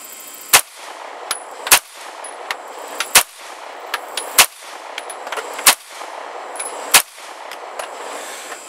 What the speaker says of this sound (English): You guys can see the gun shooting.